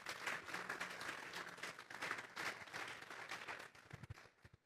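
Congregation applauding in a church service, a dense wash of clapping from many hands that swells, holds, then fades toward the end, heard fairly faint and roomy.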